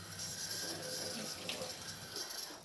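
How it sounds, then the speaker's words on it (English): Warm water runs steadily into a bowl in a kitchen, a soft continuous splashing stream heard close and alone for a few seconds. "I'm going to add a little bit of water to this bowl."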